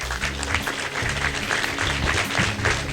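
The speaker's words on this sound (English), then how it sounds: "Give them all a big round of applause." An audience applauds the panelists at the close of a panel discussion, with dense steady clapping that sounds close and moderately loud.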